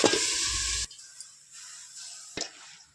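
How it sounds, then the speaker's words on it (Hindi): Hot oil with garlic and chilli being used as a tempering for greens gives a loud burst of sizzling that cuts off abruptly, followed by quiet and a brief second hiss. "तो ये भाजी का छौंक लगा लेती हूँ"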